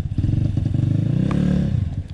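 A motorcycle rides along a muddy trail between Umiray Dingalan and General Nakar, its engine a steady, close, loud drone that swells briefly with revving partway through, with some clatter and no talk.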